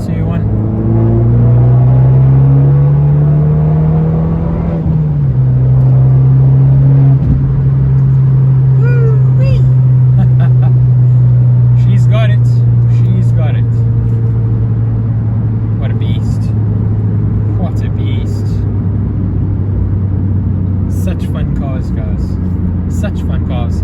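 An Abarth 595 turbo engine pulls hard at full throttle in third gear, a loud, rising rasp that climbs, dips briefly and then holds a long, sustained roar, with occasional speech over it.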